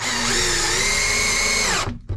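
A power drill whines steadily at high speed for nearly two seconds driving old double-threaded wood screws into a wooden garden gate, then cuts off and briefly spins again in a short burst.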